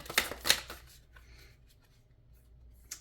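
Tarot cards shuffled and drawn during a reading: two quick, bright riffling bursts near the start, then a soft, faint slide of cards in a quiet room.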